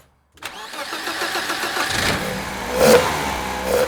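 A BMW E30's engine, just refitted with a new water pump, cranks and catches, then settles into a steady running note with a couple of surges of revving; loud and close, with no talking.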